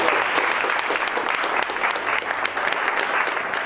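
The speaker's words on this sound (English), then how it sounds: "So I think you guys should give up a little round of applause for yourself." A film crew applauds in a dense, steady round of clapping that fills the whole stretch at even loudness, close and sustained with no voices standing out.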